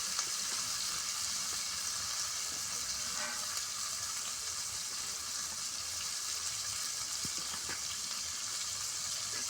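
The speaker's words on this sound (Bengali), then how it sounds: "এই যে খিচুড়ি সাঁতাল দেওয়া হবে" Khichuri being tempered in a pot at an outdoor New Year picnic, a steady, even sizzle of hot oil frying throughout, with a few faint clinks and no talking.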